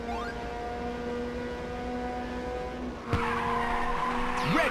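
A car drifts in the Ridge Racer 2 video game, giving a long sustained tire squeal over engine whine, then a sharp shift into a louder, rising skid near the end.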